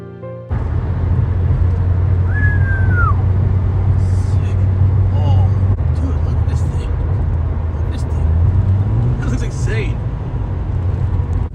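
A Nissan Skyline R34 GTR V-Spec, an inline-engined all-wheel-drive coupe, drives along roads with a steady loud low engine and road rumble throughout, a brief rising engine note near the end, and faint chirps over the drone.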